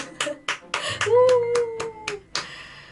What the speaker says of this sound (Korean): 여러분 일단 박수 한번 칠까요?